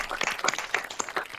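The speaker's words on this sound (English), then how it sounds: "do one final round of applause" Clapping from a debate audience at a technology forum, sharp separate claps in an irregular patter, fairly close and fairly sparse, with no one speaking.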